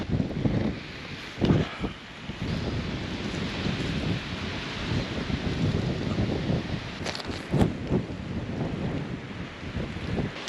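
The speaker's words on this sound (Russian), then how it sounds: "Ветер какой-то сумасшедший вообще." Strong, gusty wind rushes through fruit trees in a garden in Anapa, a continuous broadband roar that swells in bursts, with loud buffeting on the microphone and a few sharp thumps.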